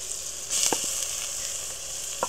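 Vegetables hit a hot pan in a village kitchen and sizzle with a steady bright hiss, broken by a few soft stirring knocks.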